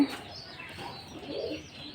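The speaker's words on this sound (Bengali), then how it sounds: "এটা হচ্ছে কবুতরের খামার" Soft pigeon cooing at a pigeon farm carries over a low background hum, faint and somewhat distant.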